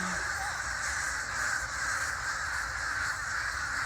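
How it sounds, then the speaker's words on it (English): A flock of crows caws continuously while mobbing an osprey overhead, a dense, steady chorus of harsh calls at a fairly loud, even level with no talk. "Flocks of birds are coming."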